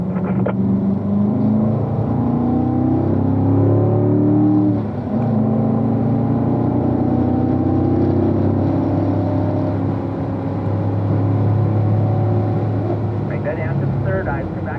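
A race car accelerates hard out of a corner on a track, its engine droning loud and steady with rising and falling tones throughout, a voice talking over the engine noise.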